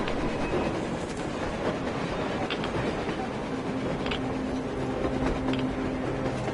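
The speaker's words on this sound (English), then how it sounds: "A train! A damn train on the surface!" A train rolls across the surface in the Metro video game, a steady rumbling mechanical drone with faint rhythmic clatter, carrying on at even loudness throughout without any voices.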